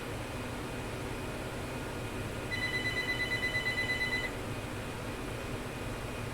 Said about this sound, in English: I swear the phone rings only when I record.